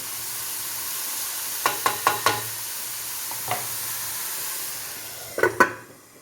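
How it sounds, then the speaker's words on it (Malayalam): Egg roast masala cooks under a lid in a pan, a soft continuous hiss and simmer with a few sharp clinks of the lid or utensil, a quick cluster early and another near the end. "ഇനി ഒരല്പസമയം ഒന്ന് മൂടി വെച്ച് വേവിച്ചെടുക്കാം"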